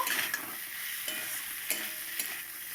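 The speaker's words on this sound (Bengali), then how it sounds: "আমি সর্ষাটা দিয়ে কত সুন্দর, মশলাটা দিয়ে কত সুন্দর ভেজে নিচ্ছি পটলটা" Pointed gourd fries in a pan with mustard and spices, giving a soft, continuous sizzle broken by a few light stirring scrapes and clicks, with no talking.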